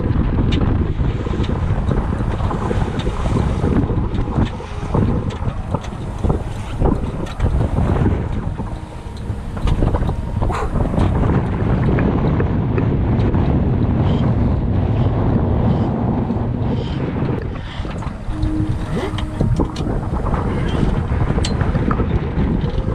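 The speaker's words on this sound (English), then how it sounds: "there's almost nothing better than the sound of the wind and waves just rushing past the hull" Wind and waves rush past the hull of a racing sailboat at sea, a loud, continuous roar with wind buffeting the microphone and surging water throughout.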